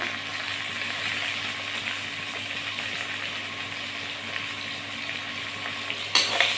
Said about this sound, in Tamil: இப்போ இஞ்சி பூண்டு சேர்த்து முழு பூண்டுலாம் போட்டு நல்லா வதங்கணும் ஃப்ரெண்ட்ஸ்